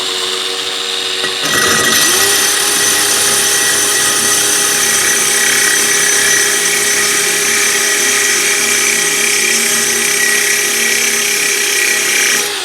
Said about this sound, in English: It's nice if you can get both hands in there and hold the drill.